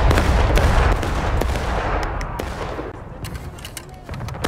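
Musket fire from rebel soldiers in the Civil War game War of Rights at Burnside Bridge, a ragged volley of many overlapping gunshots cracking near and far, thinning out as it goes.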